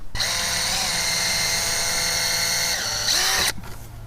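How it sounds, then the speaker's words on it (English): A power drill pre-drills holes for eye hooks on a fence gate, running as one steady, close, high-pitched whine for about three and a half seconds before cutting off abruptly. "I'm going to pre-drill my holes to make these a little easier going in."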